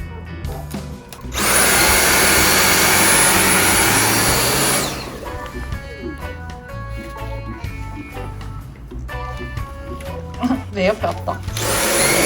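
A household vacuum cleaner roars loudly for a few seconds with a steady whooshing drone, then cuts out, leaving a dog's shuffling and people chatting nearby.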